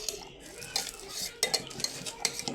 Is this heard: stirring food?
yes